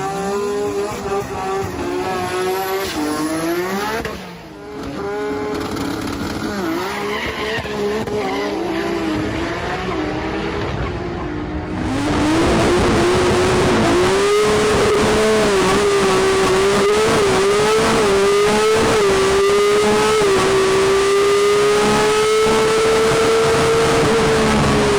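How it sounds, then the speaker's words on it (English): A Nissan R32 GT-R drag car engine runs loud and close, revving with wavering pitch, then surging to a sustained roaring high-rev drone with tire squeal in the second half. "The R32 GTR drag car is a bit of an oddity."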